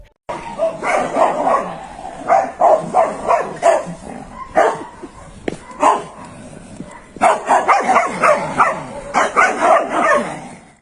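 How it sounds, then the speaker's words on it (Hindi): Two dogs bark back and forth at each other near a house gate, loud repeated overlapping barks in rapid bursts with short pauses, close by and continuous throughout. "जिसके बाद इन दोनों का एक दूसरे पर भौंकना शुरू हो जाता है"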